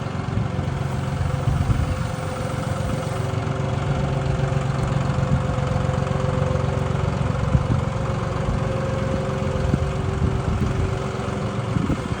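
A tractor engine runs steadily at a low idle rumble, continuous and close, with no voices, during tree removal work.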